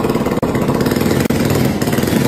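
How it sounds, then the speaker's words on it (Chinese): A small kick-started engine fitted to a motorized wheelchair runs close by with a steady, rough buzzing drone and two brief dips, with no talking. "出发的时候，我们只需要下来打开座椅，把发动机给踹着。"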